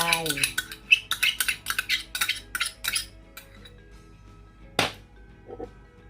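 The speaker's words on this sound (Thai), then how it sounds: "ใส่เครื่องปรุงทุกอย่างลงไป" Seasonings going into a pan for cashew chicken, with a run of quick metallic clinks and taps of utensils against cookware, then quieter, with one sharp scrape near the end.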